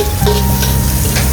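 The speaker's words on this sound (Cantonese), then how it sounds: "爆香蒜頭之後咧，就落洋葱、" Garlic and onion stir-fry in oil in a wok, a loud close sizzle with faint scraping of the spatula, continuous and without talk.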